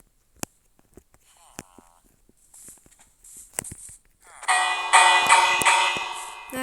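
Bell ringing in the Minecraft video game, sparse clicks and taps at first, then a loud sustained metallic clanging ring swelling and continuing to the end.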